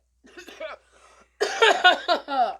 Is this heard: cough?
yes